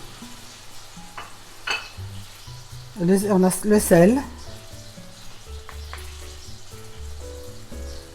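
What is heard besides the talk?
diced chicken frying in melted butter in a saucepan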